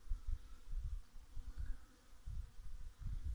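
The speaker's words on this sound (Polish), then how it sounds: "Troszkę słonko przygrzało i już pszczoły wyszły" A steady low buzzing hum of many honeybees flying around their hives in February sun, swelling and fading in soft pulses without any talk.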